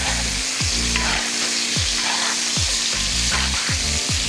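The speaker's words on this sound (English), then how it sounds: "And we just baste it" Lamb chops are basted with sizzling garlic butter in a pan over heat, producing a loud, dense frying hiss close by, with rhythmic spoon scrapes and taps recurring about every half second.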